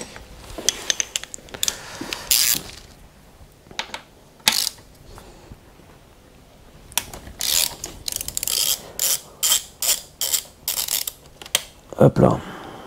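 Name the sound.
ratchet loosening a bolt on a BMW S1000R motorcycle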